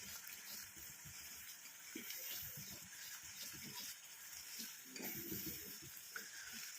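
A thick homemade hair-oil mixture bubbles and sputters in a pan as it thickens, with soft irregular popping and hissing, close by and without talk.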